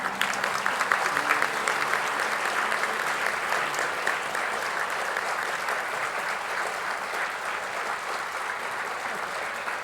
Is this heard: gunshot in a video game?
no